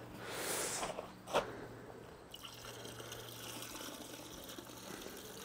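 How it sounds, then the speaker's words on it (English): New gasoline is poured into a container of trap dye solution, a faint splash and gurgle of liquid that fades to a quiet background, with one brief clink partway through. "So I'm going to add a little bit of new gasoline in here"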